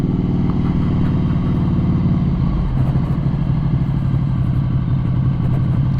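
Air- and oil-cooled 800 cc Ducati Scrambler 800 Icon (2020) motorcycle engine running steadily, a close, continuous low throb with a slight shift in tone partway through, no talking.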